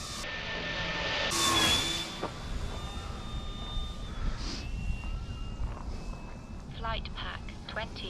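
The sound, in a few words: E-Flite Draco electric RC airplane motor at low throttle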